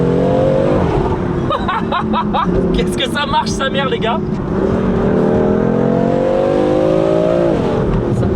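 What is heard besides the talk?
tuned BMW M4 engine and turbo blow-off while driving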